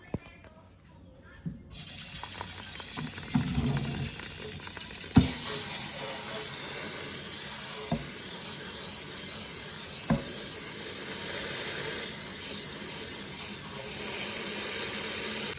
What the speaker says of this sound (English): You have to rinse your rice when you put it in the Instapot.